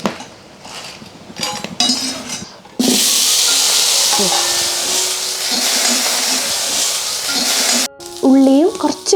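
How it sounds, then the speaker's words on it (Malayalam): Chillies roast in a hot frying pan, giving a loud, steady sizzle from about three seconds in, with scraping stirring throughout; quieter kitchen sounds come before it and a brief gap and clatter near the end. "ചട്ടിയിലിട്ടൊന്ന് വറുത്തെടുക്കാന്ന് വെച്ചാൽ നന്നായിട്ട് ഇളക്കണം"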